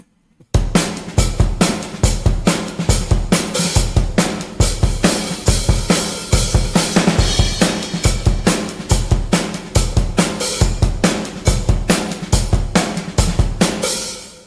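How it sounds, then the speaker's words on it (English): Fast, up-tempo eight-bar drum loop programmed in Superior Drummer 3 software, with punchy kick and snare hits and steady busy cymbals driving a tight rhythm, loud and alone with no voices. "So that is the drum sound I'll be using."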